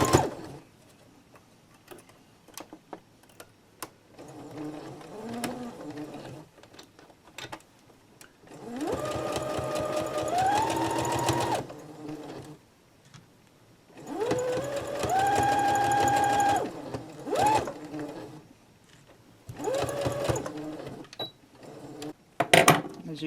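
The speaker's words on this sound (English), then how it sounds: "I'm going to stitch really, really close to that line." A sewing machine stitching close along the seam line of a fabric face mask casing, running in two long steady bursts separated by pauses, with a fainter short run earlier and small clicks between.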